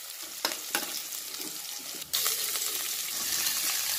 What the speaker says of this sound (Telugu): సో ఇప్పుడు ఆనియన్ పచ్చిమిర్చి వేస్తున్నాను ఓపెన్ వేగిన తర్వాత